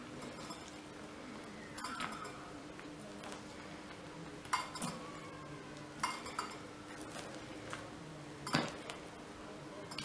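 A spoon gently stirring chocolate mousse mixture in a bowl, with soft scraping and occasional sharp clinks against the bowl over a faint background hum, no talking.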